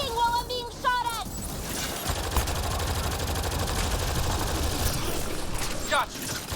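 Automatic weapon fire from the sci-fi shooter Mass Effect Andromeda, a dense continuous rattle of shots running throughout under game combat noise, with brief voice-like chirps near the start.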